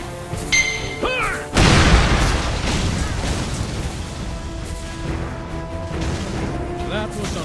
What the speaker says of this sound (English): That was an impressive blast!